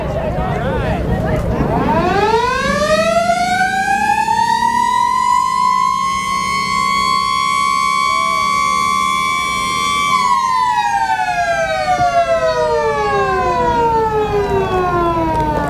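Century Macro Burst outdoor warning siren at a siren convention, winding up to one loud sustained wail that holds steady before sliding down, with faint crowd voices beneath.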